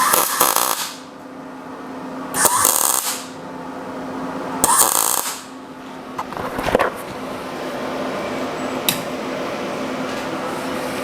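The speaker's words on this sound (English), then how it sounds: "I'll grind out that mess just now." Angle grinder grinding out a messy weld on steel during a planishing hammer build, heard as three loud bursts of a few seconds each, with a fainter buzz and a short scrape afterward.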